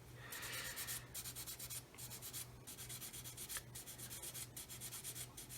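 Steady back-and-forth sanding strokes on the plastic fuselage of a 1/144 Roden C-141B Starlifter model, rubbing it down to blend into the canopy; close, continuous scratchy friction with brief pauses between strokes.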